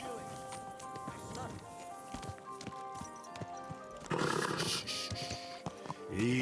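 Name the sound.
horse hooves in video game Kingdom Come Deliverance 2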